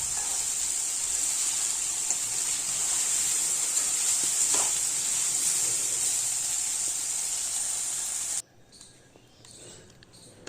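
Beans and potatoes lightly frying in a pan, a steady close hissing sizzle that holds evenly for about eight seconds, then cuts off abruptly to near quiet.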